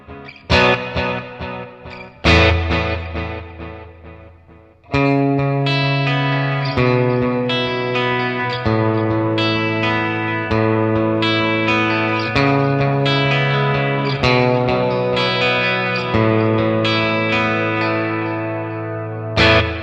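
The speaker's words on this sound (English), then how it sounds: "And then lastly, we have a delay plus reverb mode." An electric guitar runs through a Red Panda Context pedal set to delay plus reverb, with chords and melodic notes ringing into repeating echoes and a washy reverb tail, loud and continuous with no voice.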